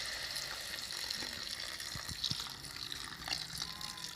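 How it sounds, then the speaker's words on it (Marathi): Water is tipped into a pan of simmering peas and cauliflower curry, a soft steady hiss and gentle sizzle with faint bubbling, close and fairly quiet throughout. "आता आपण त्यात पाणी टाकूया."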